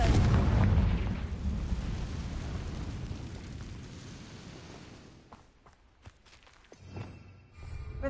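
A fiery explosive blast from the Confringo spell in Hogwarts Legacy, a loud rumbling boom at the start that slowly fades into a long low roar, followed by a few light clicks and thuds.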